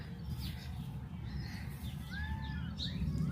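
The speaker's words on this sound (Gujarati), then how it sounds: "મોર જો મસ્ત બોલે છે ટોનિકો" A peacock calls from a farm with lemon and guava trees, its short rising cries and chirps ringing out moderately faint over a low, constant outdoor background.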